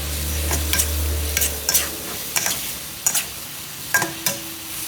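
Beef stir-fries with onion and dried chilies in a pan, a soft background sizzle punctuated by about a dozen sharp scraping clicks as a spatula works the food in an uneven, brisk rhythm.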